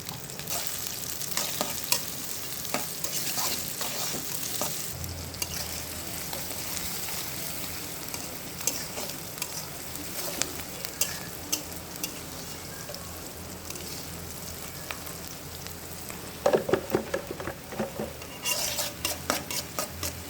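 Chopped green chilies frying with okra in plenty of oil in a pan, a steady close sizzle with frequent spatula scrapes and clinks throughout, and no voices.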